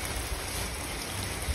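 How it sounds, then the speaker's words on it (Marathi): Heavy rain pours down steadily outdoors, a dense, even hiss of drops hitting surfaces, with no voices over it. "फुल पाऊस पडतोय बघू शकता"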